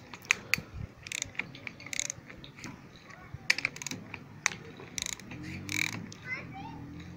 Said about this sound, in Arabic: هتفكهم بالطريقة دي عادي كده لقمة 12، وهتبدأ تفك الأربع صواميل أو الأربع جوايط دول